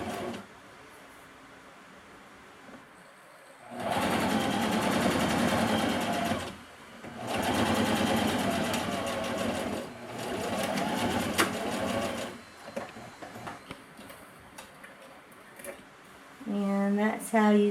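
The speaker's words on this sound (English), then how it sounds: "Put this under your machine. No pins. Stitch right in that crease." A sewing machine stitches in the ditch on a bodice in several steady whirring runs separated by short pauses. It is close and loud, and someone talks between and over the runs.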